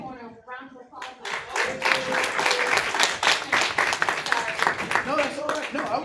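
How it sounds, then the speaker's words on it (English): After a brief spoken line, a small audience at a training group session claps for a speaker. The applause is lively and fairly close, with steady hand claps that hold for several seconds. "Everybody, just give Mr. Koen a round of applause."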